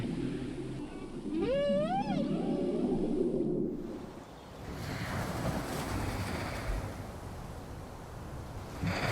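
A male humpback-style whale sings underwater off Baja California, a clear rising and falling moan with wavering upsweeps in the first few seconds, then a broad, steady ocean wash carries on alone.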